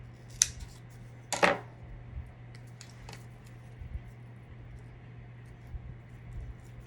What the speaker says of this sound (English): let me cut one of these little things in half